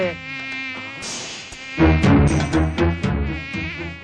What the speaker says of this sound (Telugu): ఛీ, ఛీ, ఛీ, ఈ యాదవ ఈగలు